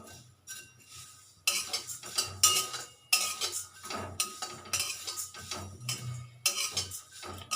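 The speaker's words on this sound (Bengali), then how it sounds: "এই যে আমি অল্প অল্প করে ভাজবো" Flattened rice (chira) being dry-fried a little at a time in a pan for sweet nadu, with steady scraping, stirring and clinking of a utensil against the metal, loud and close, in repeated bursts with no talk.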